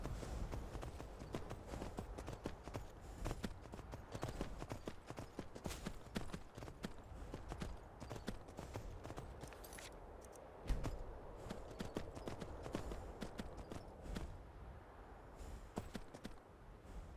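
A horse in Skyrim clip-clops steadily, its hooves making a dense rhythmic patter that carries on for the whole stretch, close and even, with no voices over it.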